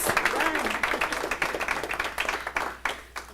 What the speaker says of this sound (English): Efren Cuevas, can we just give a round of applause so he can hear us publicly?